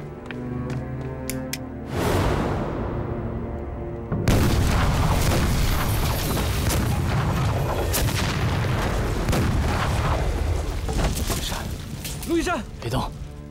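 A lighter bomb goes off in an action film: a heavy, loud boom hits about two seconds in, then a second blast about two seconds later, followed by roaring debris and rumbling chaos. Voices cry out amid the noise.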